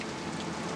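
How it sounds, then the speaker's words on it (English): Rain falls steadily on outdoor surfaces, a dense hiss of drops without any voices. "First rain this season!"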